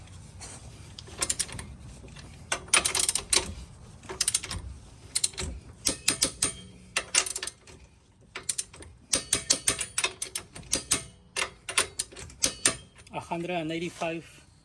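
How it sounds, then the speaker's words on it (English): A click-type torque wrench tightens a front suspension bolt to 185 ft-lb on a 2015–2022 Ford Mustang during a lowering spring install, giving repeated ratcheting clicks in quick bursts with short pauses, close and moderately loud. "We're gonna use the torque wrench, and we are going to tie this to 185 foot-pounds of torque."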